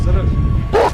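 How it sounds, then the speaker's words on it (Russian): Kangal livestock guardian dogs let out a short burst of loud, deep barking, close by, over a narrating voice. "В преследовании хищника собаки используют звучный лай для устрашения."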